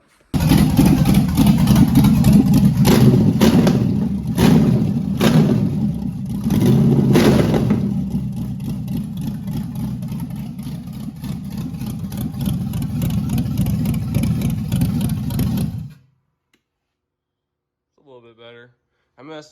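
Car engine fitted with an MSD LS 6014 carburetor that has a backfire problem, running loud and close with several revs rising over a rough idle, then cutting off abruptly into silence before a brief voice.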